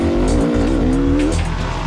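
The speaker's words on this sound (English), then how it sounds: "decide to crank the throttle a bit to try and stay on Andrew's tail" A Beta RR300 enduro motorcycle revs hard as the throttle is cranked while chasing another rider, a loud, close, continuous engine whine rising in pitch with no talk over it.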